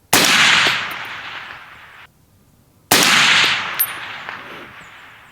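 Two suppressed rifle shots through a HUXWRX FLOW 762 Ti titanium suppressor at a long-range setting, each a sharp loud crack trailing into a fading echo, spaced about three seconds apart.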